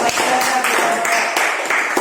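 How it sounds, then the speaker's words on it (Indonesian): Students in a classroom clap together after a group presentation, a dense, fairly loud burst of applause that holds steady throughout. "Oke, tepuk tangan"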